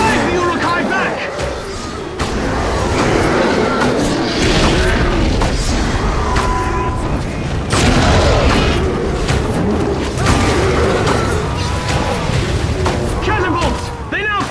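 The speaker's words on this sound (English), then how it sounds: "Catapults! They now fire upon the causeway!" Heavy booms and crashes from catapults firing on a causeway during a Lord of the Rings Conquest battle, dense impacts mixed with battle din and shouted voices throughout.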